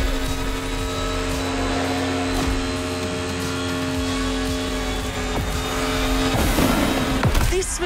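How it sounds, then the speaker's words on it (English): Mercedes Silver Arrow race car in The Crew Motorfest, a steady engine drone with tyres squealing through corners, rising into a louder burst of revving and skidding near the end. "Come on, driver, push that Silver Arrow."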